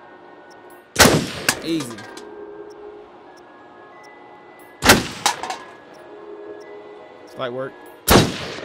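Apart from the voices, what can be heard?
gunshots from the video game Until Dawn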